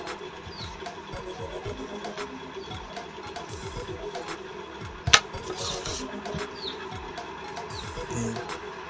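A sewing machine runs steadily, stitching fabric with a close mechanical whir and rapid ticking that continues throughout, with one sharp click partway through.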